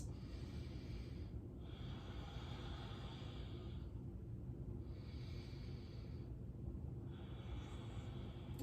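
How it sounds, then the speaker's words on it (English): Slow, deep yoga breaths repeat in a calm rhythm, several long inhales and exhales heard close against a steady low background hum. "Take two more great big deep breaths."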